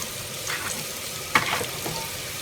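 Bhindi masala with salt being stirred in a frying pan, a soft sizzle with scraping and tossing sounds and one sharper clatter midway, close and without talk.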